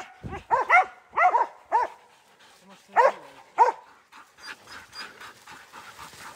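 A bear-hunting dog gives a burst of sharp barks and yips in quick succession, then pants heavily and steadily close to the microphone.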